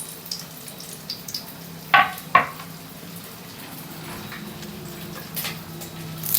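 Garlic cloves going into hot oil with urad dal in a pan for bhindi fry: two quick clattering drops, then a soft, steady sizzle that gradually thickens.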